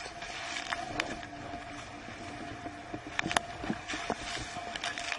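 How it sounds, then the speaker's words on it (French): A boat engine drones faintly under wind and water noise, racing as it crests waves, with sharp knocks and bumps as the hull hits them. "on écoute le régime du moteur qui s'emballe sur la crête des vagues"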